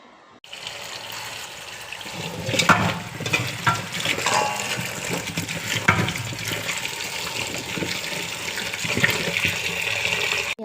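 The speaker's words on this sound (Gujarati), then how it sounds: "આ છે રતાળું, બટેટા, સક્કરિયું। આ બધું ધોઈ નાખવાનું છે।" Yam, potatoes and sweet potatoes are rinsed in water, a close, continuous rush of running and splashing water with sloshing and occasional knocks as the vegetables are handled, loud and steady throughout with no voices.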